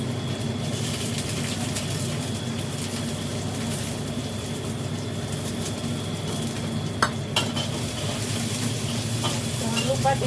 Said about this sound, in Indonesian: minyaknya sudah panas, tak cemplungkan bumbunya ya.